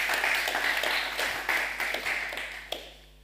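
Hall audience at a Swiss talk on recycling in the building sector claps to welcome a speaker, a moderate round of applause that thins into a few separate claps and fades out.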